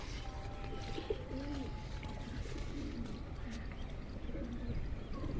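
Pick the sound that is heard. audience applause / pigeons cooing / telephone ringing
pigeons cooing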